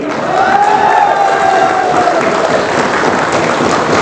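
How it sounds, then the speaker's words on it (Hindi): A loud crowd claps and cheers at a motivational talk, a dense roar of applause with a rising and falling shout or whistle over it, continuous for about four seconds. "अरे भैया जोरदार तालियां बजा दो यार"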